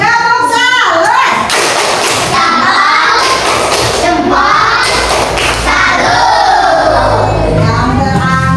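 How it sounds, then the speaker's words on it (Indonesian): Applause from a classroom audience after a group presentation, a dense broadband wash of clapping mixed with crowd noise and children's voices, loud and close throughout. "Tepuk salut."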